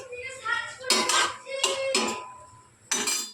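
Peanuts are tipped into a pan holding a blended paste of chili, cumin, turmeric and a little water, giving close, bright rattling clatters in several bursts against the metal.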